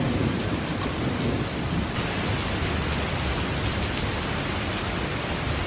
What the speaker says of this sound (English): Thunder! Thunder! Thunder on the mountain!